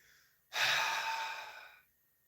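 A single audible 'ha' exhale in ujjayi breathing, breathed out to fog a pair of glasses: one close, breathy, airy rush lasting over a second that fades as the breath runs out.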